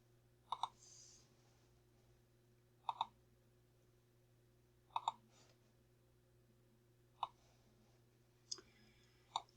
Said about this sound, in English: I'm clicking on Home in My Library